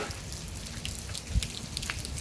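Rain falls steadily in wind outdoors, a soft constant hiss with scattered drops tapping, fairly faint and with no voices.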